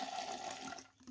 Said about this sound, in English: We're gonna fill it in with warm water.